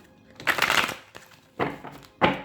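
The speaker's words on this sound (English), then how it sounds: "Let's do 2 more shuffles for January 2021." Tarot cards are shuffled in three quick riffling bursts separated by short pauses, close and crisp.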